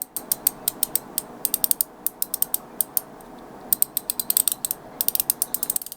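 Crisp metallic clicks of stainless steel balls snapping in a GDEDC Gladiator 2.0 slider fidget toy, in quick irregular bursts and clusters, close and clear against a quiet background.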